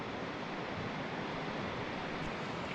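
A constant, dense roar of clear river water flowing under a trail footbridge on the Middle Fork Snoqualmie, even and unbroken with no voices.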